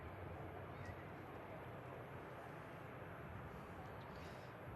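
An Aer Lingus ATR 72 turboprop airliner is heard at an airport as a steady, broadband engine roar with a low rumble, holding constant throughout with no speech.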